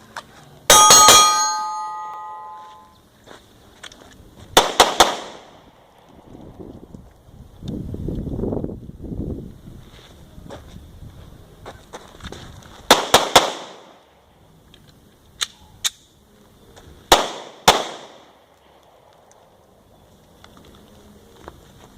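Walther PPS M2 pistol shots fired at a range, sharp loud cracks that are well spaced, some in quick pairs, with quiet gaps and faint rustling between them.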